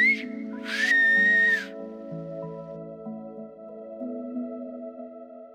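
A person whistles an imitation of a golden eagle's cry outdoors: a short high whistle followed by a longer, louder shrill note, then quiet background with faint tonal hum.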